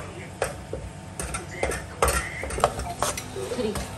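Chana dal halwa is stirred and roasted in ghee in a pan, with repeated metal spoon scrapes and clinks against the pan over a light sizzle, close and busy.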